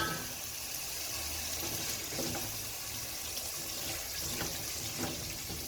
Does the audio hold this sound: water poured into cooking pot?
yes